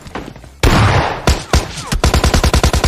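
Gunfire from an enemy squad in PUBG Mobile: a loud blast, a few heavy single shots, then a rapid automatic burst of evenly spaced rounds, close and dominant.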